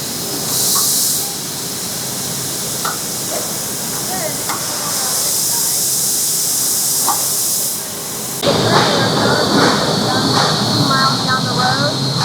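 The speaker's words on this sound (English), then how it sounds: "this Mazak laser is what cuts out all of these pieces" A Mazak laser cutter cuts steel parts for bumper pull trailer hitches in a fabrication shop, a loud steady hiss with bursts of high whine and a rough, noisier stretch near the end.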